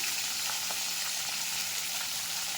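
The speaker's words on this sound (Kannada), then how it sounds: "ಬದನೆಕಾಯಿನ ಕಟ್ ಮಾಡಿ ಇಟ್ಕೊಂಡಿದ್ವಲ್ಲ ಅದನ್ನು ಸ್ವಲ್ಪ ಫ್ರೈ ಮಾಡ್ಕೋಬೇಕು ಹಂಗೆ ಹಾಕೊಳ್ತಾ ಇದ್ದೀನಿ ಎಣ್ಣೆಗೆ" Cut eggplant pieces frying in hot oil, a steady close crackling sizzle throughout with faint pops, no talk.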